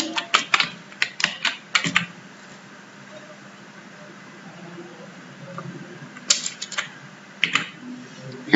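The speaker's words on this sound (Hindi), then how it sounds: "हम नीचे आने के लिए कीबोर्ड से इंटर प्रेस कर सकते हैं" Keys clatter in quick bursts on a computer keyboard while a company name is entered in Tally Prime accounting software, with a quiet pause between two flurries of close typing.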